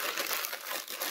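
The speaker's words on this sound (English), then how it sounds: "I'm gonna go ahead and crumple everything towards the inside" Single sheets of newspaper being crumpled by hand for papier-mâché, a close, loud, continuous crackling and crinkling with brief dips as the paper is squeezed.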